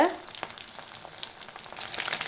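Chicken kebabs fry on a medium flame, a close, crackling sizzle of hot oil with fine popping bursts throughout and a brief clatter at the start.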